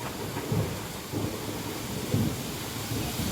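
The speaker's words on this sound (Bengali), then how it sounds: "প্রচুর ঝড় বৃষ্টি হচ্ছে" Heavy thunderstorm rain pouring steadily with low rumbling thunder rolling under it in several soft swells, close and constant.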